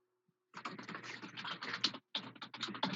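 Rapid typing on a computer keyboard, with dense, irregular key clatter that starts after a brief quiet moment, runs close and fairly loud, pauses briefly, then resumes.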